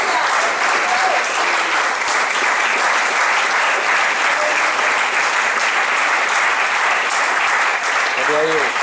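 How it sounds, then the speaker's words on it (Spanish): A church congregation applauds steadily for about nine seconds, a dense, loud wash of clapping hands, with a brief voice rising at the very end. "Ese aplauso para Jesús."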